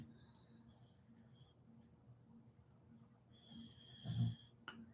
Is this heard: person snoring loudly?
yes